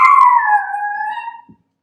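A house dog howls once in a long, wavering, falling cry that trails off into a whine, loud and near, alone in a quiet room.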